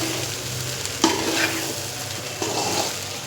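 Cooked rice is stirred through a hot pot with a scraping spoon, sizzling steadily underneath, and two sharper scrapes stand out over the frying; nobody speaks.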